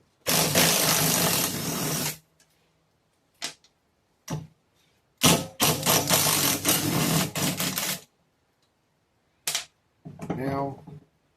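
An impact wrench or power driver loosens bolts from the spindle of a John Deere D130 mower deck in loud, close bursts of rattling hammering, separated by short quiet gaps and a few brief clanks.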